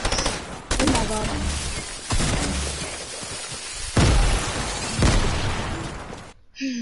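A grenade blast and bursts of gunfire in a Fortnite duos match, several loud heavy booms and rattling shots in quick succession, close and dense.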